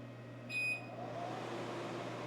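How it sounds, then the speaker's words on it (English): An xTool P3 laser engraver powering up, with a single short electronic beep over the steady whoosh of its blower fan and a low continuous hum, close and alone. "We got a couple beeps, that's normal."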